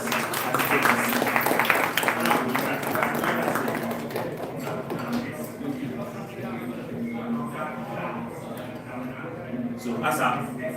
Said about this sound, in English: Let's give him a round of applause as he takes a seat.